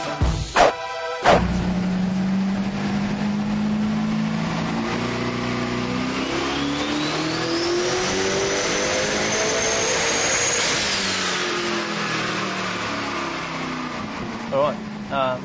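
A supercharged drag car engine revs hard on a first shakedown run with boost run off the actuators, a loud, steady rising whine climbing over several seconds before dropping away, with brief bursts at the start and end.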